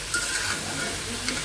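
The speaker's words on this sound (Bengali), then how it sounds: "একটু ভেজে নিচ্ছি হলুদ আর লবণ দিয়ে" Beef and chicken frying with turmeric and salt, a dense continuous hiss of sizzling oil, close and steady, with a few faint stirring scrapes.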